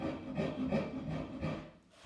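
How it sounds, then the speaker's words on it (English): A wooden gun stock clamped at an angle in a vise is worked with a file, giving steady raspy rubbing strokes of moderate loudness that continue for about two seconds, easing off near the end. "So what I'm gonna do is I'm gonna start filing this off and shaping it up."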